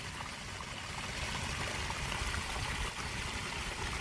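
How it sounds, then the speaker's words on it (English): Water runs steadily through a French drain in a yard after four inches of rain, a soft, continuous trickling flow heard faintly and alone. "The French drain is pulling all the water from the subsurface."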